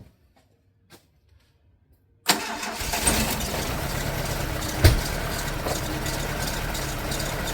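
After a near-silent pause, a 1984 Dodge Mini RAM van's engine cranks and catches after sitting parked for 25 years, then settles into a loud, steady idle close by, with a brief squeal and thump partway through.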